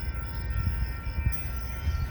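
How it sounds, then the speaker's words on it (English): A train passing at a station, with a low steady rumble and rolling rattle of wagons, moderately loud and continuous without voices. "It's not my train."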